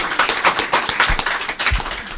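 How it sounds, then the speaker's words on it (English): An audience at a gathering claps for an accountant named Mr. Okai, a short uneven burst of hand claps with a couple of louder thumps mixed in. "Can we clap for him again?"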